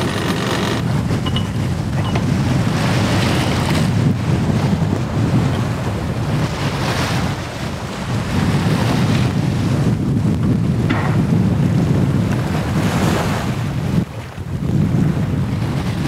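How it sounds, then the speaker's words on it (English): Strong wind buffets the microphone aboard a sailboat flying a code zero sail, with waves rushing along the hull in a loud, constant roar throughout. "It's funny, it seems like so much wind."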